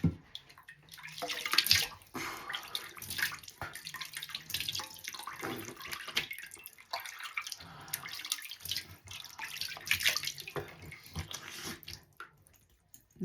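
Water runs and splashes steadily from a tap as papaya facial soap is rinsed off at a sink, close and fairly soft, with uneven gushes and pauses as hands move through the stream.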